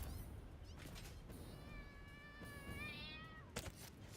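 A cat meows in a long, rising and falling wail over a steady hum of machinery in the factory-building video game Satisfactory, fairly clear and close.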